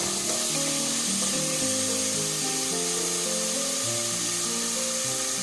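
Onions fry in a pan for a spinach dal, making a constant sizzling hiss under steady tonal background music.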